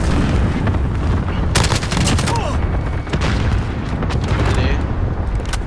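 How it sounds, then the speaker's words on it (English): Cluster strike explosions and gunfire in a video game, with loud, continuous booms and rapid shots layered close together and a voice talking briefly over the din. "Friendly cluster strike inbound."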